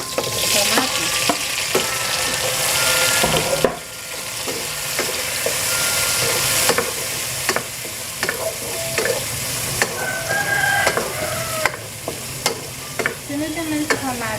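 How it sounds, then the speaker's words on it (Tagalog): Peppers and tomatoes sizzle steadily while being sautéed in a pan, with frequent scraping and clinking from stirring throughout, close and fairly loud with no talking. "Pinigisa ko na yung peppers, kamatis."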